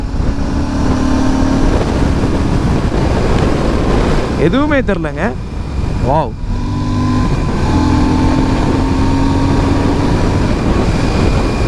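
A Royal Enfield cruiser motorcycle engine drops in pitch as it slows under engine braking, with brief revving dips over steady road and wind noise; someone talks briefly.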